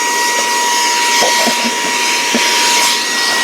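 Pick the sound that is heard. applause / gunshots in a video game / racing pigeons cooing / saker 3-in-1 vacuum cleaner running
saker 3-in-1 vacuum cleaner running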